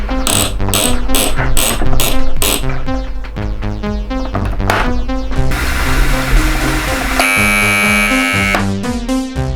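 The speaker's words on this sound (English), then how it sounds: "down there is that almighty buzzer that you hear" The alarm buzzer of a Goblin Teasmade automatic tea maker: a loud, harsh mechanical buzzing and rattling drones on, shifting in pitch and texture, with clicking and grinding throughout.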